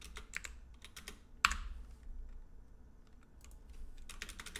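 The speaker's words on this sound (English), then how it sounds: "I think in this case it's probably just better just to type them out." Computer keyboard typing in short bursts of quick key clicks, close and quiet, with one sharp louder clack and a brief pause midway.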